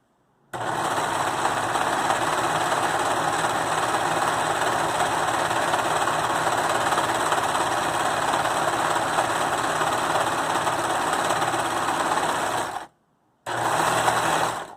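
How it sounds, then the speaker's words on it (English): A serger runs a seam along a pillowcase, producing a steady, fast, loud mechanical whir for about twelve seconds, then stopping briefly before one more short burst. "Then you just turn it again, and you're going to serger the bottom."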